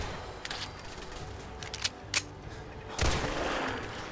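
Automated turrets in Fallout 4 fire on zombies in scattered bursts of gunfire, some sharp single shots and a longer noisy volley near the end, heard over a low steady background.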